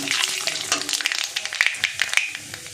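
Loud crackling and popping as nigella seeds hit hot oil, sharp spitting bursts settling into a busy, uneven sizzle.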